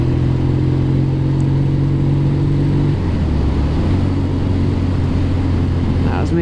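A 1962 Norton Dominator 88 motorcycle engine runs loud and steady while riding, its tone dropping abruptly midway as a gear changes, then droning on at a lower pitch.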